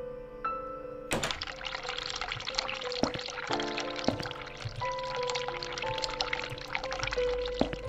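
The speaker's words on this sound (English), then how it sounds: "Turn the cold water on." A cold tap runs steadily in the video game The Cat Lady, a continuous close pour of water after a sharp onset, with faint tonal game sounds underneath and no speech.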